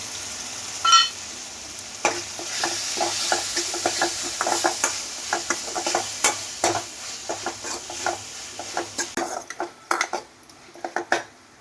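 Tomatoes and ginger garlic paste sautéing in a pan for kurma, with steady stirring scrapes and utensil clicks over a soft sizzle, close and fairly loud.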